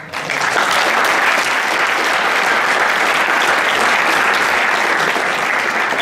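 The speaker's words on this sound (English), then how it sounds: "Give yourselves a big round of applause." Sustained, loud applause fills the hall at a hackathon closing ceremony, a dense steady roar of many hands clapping from start to finish with no one speaking.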